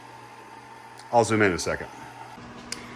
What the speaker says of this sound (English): The microwave's still going.